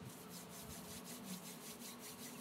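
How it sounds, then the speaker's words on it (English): Palms of the hands rubbed briskly together in a quiet room, a soft steady swishing friction with faint rhythmic strokes, low in level and alone. "Rub the palms of the hands together."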